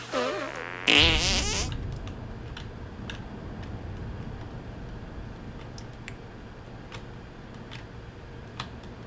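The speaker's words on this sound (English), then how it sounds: "Even a child could block that fart." In the South Park: The Stick of Truth video game, a loud, abrupt cartoon fart blast erupts about a second in, then fades into quiet game ambience with faint ticking clicks.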